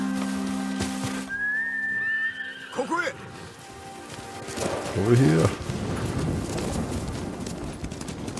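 A rider whistles in Ghost of Tsushima to summon a horse, which answers with a whinny before hoof clip-clops approach; game music and player talk run underneath, with a short spoken call in the middle.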